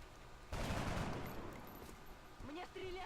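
A weapon volley in the XCOM Long War strategy game, a sudden loud burst of rapid gunfire that rolls on and fades, followed by softer game effects and a rising electronic tone.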